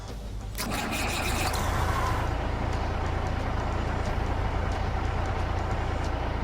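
A Peterbilt 389 truck in Euro Truck Simulator 2 cranks over and settles into a loud, steady low engine rumble that holds for several seconds.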